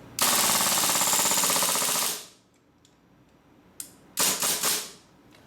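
A WE WE712 airsoft gas blowback pistol dry-firing: a loud, rapid mechanical clatter lasts about two seconds, then after a pause comes a single sharp snap and a short final burst of cycling clacks, close up with no talking.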